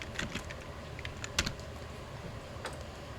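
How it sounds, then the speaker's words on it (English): Someone typing a search for muscle anatomy on a computer keyboard: a quick run of soft clicking keystrokes, close and moderately quiet, with a few sharper taps standing out, no voices. "So maybe I shall type in muscle."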